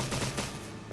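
A single close, sharp gunshot with a short rattling tail from a Resident Evil game, loud and alone over a steady background drone.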